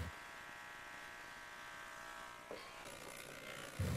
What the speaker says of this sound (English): Turn on the ultrasonic cleaner and let it work for 6 minutes.